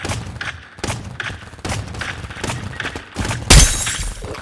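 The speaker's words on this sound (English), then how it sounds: "I snipe people all day." Rapid bursts of sniper fire in the video game Paintball 2, a string of sharp cracks about every half second, with a louder, brighter shot near the end.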